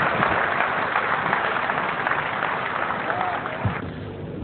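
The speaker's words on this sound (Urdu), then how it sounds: "تالیوں سے استقبال کیجیے" An audience breaks into sustained, dense applause to welcome the Urdu poet Munawwar Rana at a ghazal recital, a steady crowd clapping that fills the whole stretch and tapers slightly toward the end.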